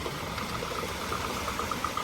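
Car engine idling at a steady, low throb as the vehicle drives through a water-filled ford, with a faint rhythmic ticking over the hum and no talk.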